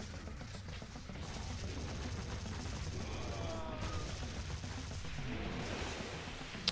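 Enemies open fire in the tower-defense shooter Sanctum 2, a dense rattle of rapid gunshots and bursts blending into a continuous roar throughout, fairly loud with no clear talk.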